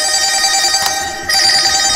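A loud phone ringtone sounds in steady bright tones, breaking briefly twice before resuming, heard on its own without speech.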